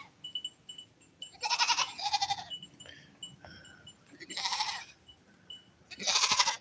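Goats bleat in four loud, close calls, each a wavering nasal cry lasting about a second, separated by short quiet gaps with faint background noise.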